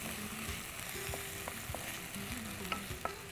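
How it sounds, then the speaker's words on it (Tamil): Tomatoes sautéing in a pan give a steady, moderate sizzle with occasional soft stirring clicks, no voices over it. "தக்காளி பழத்தை போட்டு நல்லா வதக்கிறோம்."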